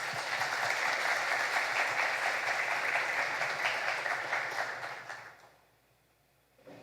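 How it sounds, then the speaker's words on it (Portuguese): Sustained audience applause welcoming a speaker at a Catholic faith formation evening, steady and full for about five seconds before fading out into near silence. "queria que você fosse acolhido com uma salva de palmas"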